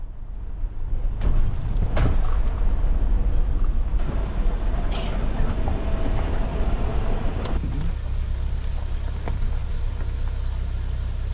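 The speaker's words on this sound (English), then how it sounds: "Enjoy these classic car scenes of us driving home." Car interior on a drive home along a rough route near a river, with a continuous low engine and road rumble, wind buffeting and occasional clunks, shifting in tone partway through.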